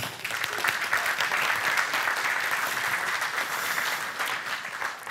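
An audience at a lecture on geopolitics bursts into sustained applause, a dense, even roar of many clapping hands that holds at a moderate level for around five seconds, with no voices over it.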